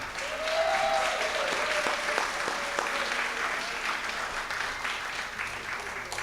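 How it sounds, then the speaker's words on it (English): A big round of applause from an audience at a senior volunteer recognition ceremony, sustained dense clapping that starts strongly and tapers slightly, with a few brief voices and cheers at the start. "Let's give them a big round of applause."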